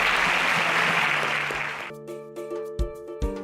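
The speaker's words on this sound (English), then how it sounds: "Can we give him a round of applause as he exits" A television game-show audience applauds a departing contestant with dense, loud clapping that cuts off partway, giving way to a sustained musical tone with a few low thumps.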